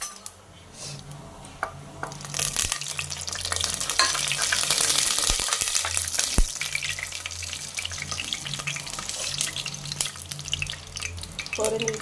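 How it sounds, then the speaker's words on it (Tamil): Whole spices such as cardamom, clove, star anise, mace, fennel, cinnamon and bay leaf fry in hot oil for mutton kuzhambu, giving a steady close sizzle and crackle that swells midway, with occasional sharp pops and clinks of stirring. "நல்லா பொரியட்டும்."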